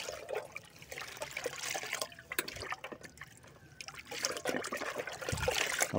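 Liquid fertilizer mixture, about one and a half buckets' worth for vegetable plants, stirred by hand in a bucket, with continuous sloshing and trickling swirls that rise and fall, close and soft, without talking.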